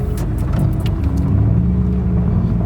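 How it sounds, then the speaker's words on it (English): BMW E36 engine running steadily, a loud low rumble with a constant idle-like drone and a few brief higher clicks early on, close to the car with no talk. "Car sounds great."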